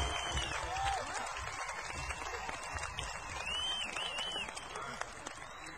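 Applause from the audience at an outdoor blues festival at a beach resort in Avila Beach, California, with dense clapping that stays steady for several seconds, mixed with crowd noise and whistles.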